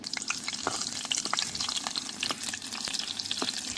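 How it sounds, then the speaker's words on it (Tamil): Steady oil sizzling and crackling throughout, with onions and crushed garlic frying close by and occasional stirring clinks. "இந்த நேரம் தாளிக்கிறதுக்கு வெங்காயம் இடிச்ச பூண்டு சேர்த்துக்கிறாங்க"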